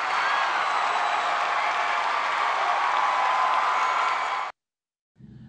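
Audience applause at the MTV music awards, a dense, steady roar of clapping from a large crowd that runs for about four and a half seconds before cutting off abruptly, followed by a brief low sound.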